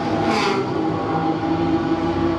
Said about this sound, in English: You probably can't hear me, but you can hear the cars.